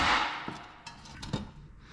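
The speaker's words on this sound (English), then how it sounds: "Probably have to hammer it, it's probably been on there forever" Two or three sharp metallic taps ring out close by, spaced apart, with a brief scrape in between, as a brake backing plate is hammered off a GM 14-bolt full-float axle.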